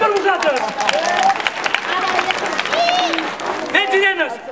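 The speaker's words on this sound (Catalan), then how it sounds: "Un fort aplaudiment per vosaltres!" Applause for a group of children at a carnival sardine-burial celebration, with clapping and cheering from the crowd mixed with high, excited children's voices shouting.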